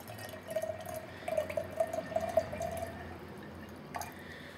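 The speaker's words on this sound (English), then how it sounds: "This is 400 milliliters of waste vegetable oil, to which I'm going to add 100 milliliters of kerosene" Kerosene lamp oil being poured into waste vegetable oil, heard as a soft, steady trickle of liquid. The faint pour runs for about three seconds. A brief clink follows near the end, and no one speaks.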